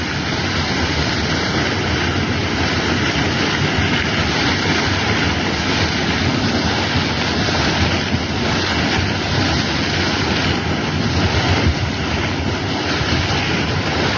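A geyser spouts water from the ground with a continuous loud, rushing hiss that holds steady for the whole stretch, close up and with no voices.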